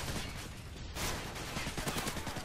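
Rapid gunfire bursts in Modern Warfare 3 played on PC, dense and continuous for the whole stretch with no talking over it.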